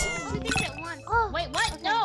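Cat meowing in a few short, rising and falling calls close by, with a light clink and brief voice-like sounds mixed in.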